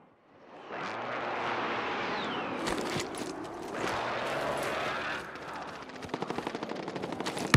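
Video game gunfire crackles in rapid bursts, with sustained automatic fire and a fast rhythmic volley toward the end, in a mid-distance mix without clear speech.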